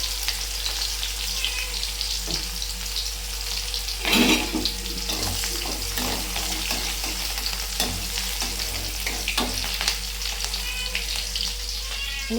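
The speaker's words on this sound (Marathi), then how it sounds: "तेल जास्तच तापलेलं आहे, थोडेसे जिरे टाकले, त्यानंतर मिरची आणि लसूण मी इथं टाकलेलं आहे." Cumin, green chili and garlic tempering in very hot oil, giving a steady close sizzle throughout with a brief louder crackling burst near the start and light spoon clinks now and then; no one speaks.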